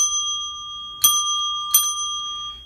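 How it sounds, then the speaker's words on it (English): A small coffee bell rings with a sustained, bright metallic tone, struck again twice about three-quarters of a second apart, each strike adding a crisp attack over the lingering ring, close and without talk. "That's my coffee bell here."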